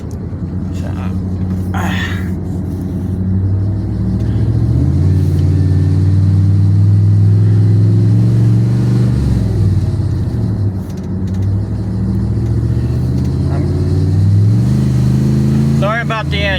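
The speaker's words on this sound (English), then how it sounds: "sorry about the engine. This thing's acting up a little bit, and I'm just trying to get it so it kicks in, so I don't have to have that roaring." An idling vehicle engine that is acting up rumbles steadily and close for the whole stretch, its low drone rising into a rougher roar around the middle, with someone talking over it throughout.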